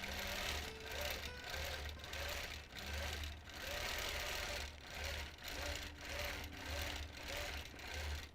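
A sewing machine stitches free-motion quilting of small grass sprigs, running in steady bursts of rapid mechanical chatter that stop and restart every second or so, close and fairly loud with no talking.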